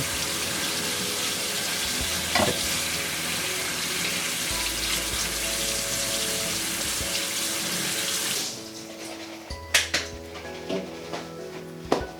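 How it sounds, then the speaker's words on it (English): Canned beans being drained and rinsed under a kitchen tap, a steady close rush of running water into a sink for about eight seconds, then the flow stops and a few clatters and knocks follow. "just draining and rinsing them"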